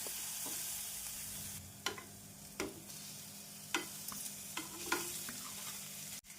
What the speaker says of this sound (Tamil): வெங்காயம் இந்த அளவு வதங்கவும் உருளைக்கிழங்கு மசாலாவை சேர்த்து விடலாம்